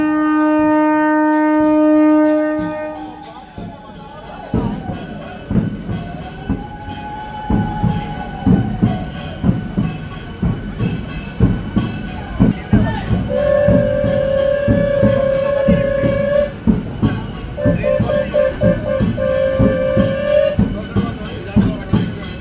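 An AC local train runs on the Barasat to Sealdah line, with loud sustained horn blasts at the start and again later over a steady rumbling, clattering run, and voices murmuring beneath.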